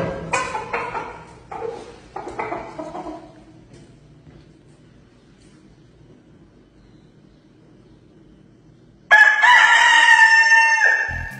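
A rooster crows loudly and close by, several broken calls, then quiet hum before another sharp, piercing crow bursts in near the end.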